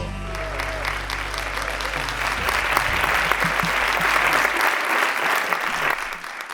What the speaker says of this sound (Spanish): demanem un fuerte aplauso pa Jorge Puello